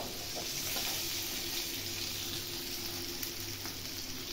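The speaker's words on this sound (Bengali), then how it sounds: "আলুগুলো যাতে সেদ্ধ হয় সেইভাবে গ্যাসটা একটু মিডিয়াম লোতে করে ভেজে নেবেন।" Potatoes frying in oil on a gas stove at medium-low heat give a steady, even sizzle with a hissing crackle that runs unbroken throughout, close and moderately loud.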